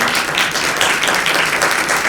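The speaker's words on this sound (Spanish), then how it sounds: "vamos a darle un aplauso de bienvenida a la escritora Silvia Schucker." Dense audience applause welcoming a writer at a children's literature event, loud and sustained, many hands clapping together in a continuous wash of sound.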